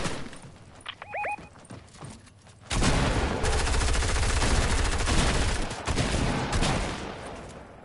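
Rapid automatic gunfire in Fortnite erupts after a quieter stretch with a brief high whistle-like tone, becoming a loud, sustained barrage of shots that runs to the end with brief dips.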